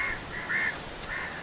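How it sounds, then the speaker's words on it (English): A crow in Sri Lanka gives a few harsh nasal caws at moderate distance, spaced irregularly over a quiet outdoor background. "It's a crow."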